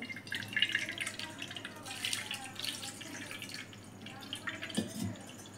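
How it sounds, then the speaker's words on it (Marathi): Cold water splashing and dripping over freshly cooked sabudana (homemade nylon sabudana), a soft, intermittent trickle with small drips, fairly quiet and close. "त्याच्यावर लगेच थंड पाणी टाकायचं"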